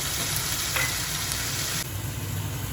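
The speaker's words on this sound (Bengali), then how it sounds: "এর মধ্যে দিয়ে দেবো পেঁয়াজের পেস্ট" Onion paste frying in a pan for doi katla fish curry, a dense continuous sizzle with a low hum beneath, close and even, dropping slightly near the end, no talking.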